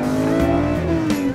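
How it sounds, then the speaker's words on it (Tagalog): A manual car's engine revs up as the car accelerates, a close, steady rising drone with clear harmonics and no talk over it. "Habang mas bumibilis ang takbo ng sakyan ay mas lalakas rin ang tunog ng makina."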